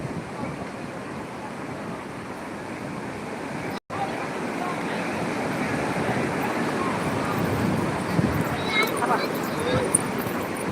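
Sea waves at Digha beach, where speed boats carry tourists out, make a steady, broad wash of surf and wind noise. It continues throughout apart from one brief dropout.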